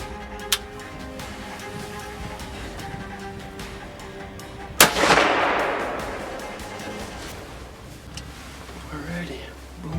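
Single loud, sharp rifle shot during a Wisconsin deer hunt outdoors, followed by a long decaying echo rolling away over a couple of seconds, with a faint earlier click and steady background noise.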